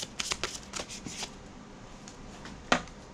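Tarot cards riffled and shuffled in quick bursts before a clarifier card is drawn, soft and close with one sharper snap near the end, no talking.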